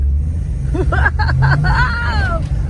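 A 1956 Chrysler New Yorker four-door with a Hemi engine gives a low, steady rumble close by while a person talks over it.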